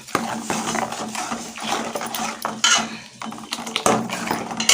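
A utensil stirring tomato chutney with turmeric and salt in a pan, with irregular clinks and scrapes against the metal and a soft wet bubbling underneath, close and fairly quiet.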